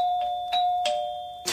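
A doorbell chimes with a sustained electronic tone, a few soft clicks over it, ending in a brief burst of noise.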